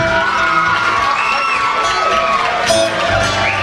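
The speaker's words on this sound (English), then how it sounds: "give Gaynor a round of applause" A live crowd at a 2006 band gig in Hendra, Wales, cheers and whoops loudly and continuously as a woman is brought up on stage, with shouts rising over a steady wall of noise.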